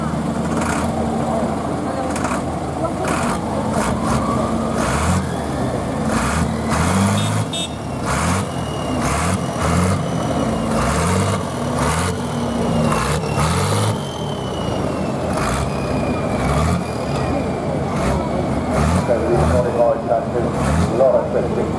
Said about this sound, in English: If you get a tractor coming down there like that, straight up